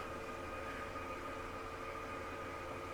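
An RV's bedroom slide-out motor retracting on a Flagstaff Superlite 29BHS: a continuous motor hum with steady tonal whine and broadband hiss, unchanging for the whole stretch, fairly faint and close by.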